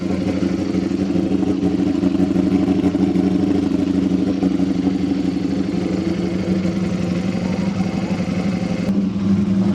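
A Street Fighter motorcycle engine idles steadily with a deep, loud, continuous rumble throughout, with no voices.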